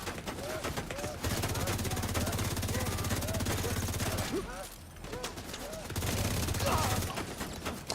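Turret gunfire in a video game: rapid automatic bursts rattle steadily through most of the stretch, pausing briefly near the middle before resuming, with a voice talking over the shooting.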